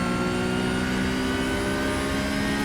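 A Porsche 992 GT3 Cup car in the iRacing game holds full throttle, giving a dense, steady engine roar with a strong sustained tone. The roar is loud and unbroken for the whole stretch, with no talk.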